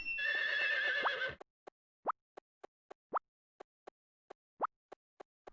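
A horse in a video game whinnies briefly, then a sequence of sharp, evenly spaced hoof-like plops with a few louder snorts, close and isolated.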